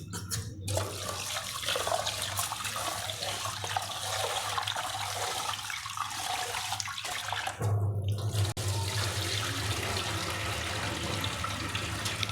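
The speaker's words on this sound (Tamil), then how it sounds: "அதனால் அரிசியை நல்லா கழுவிக்க வேண்டியது தான்." White rice being washed in water for idli batter, a continuous sloshing, running-water wash with brief swishing surges, close and steady, no talk.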